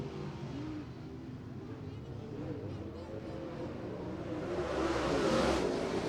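Late model race cars race at Merritt Speedway with a distant, rumbling drone of engines that swells toward the end as the pack nears, heard under a commentator's voice.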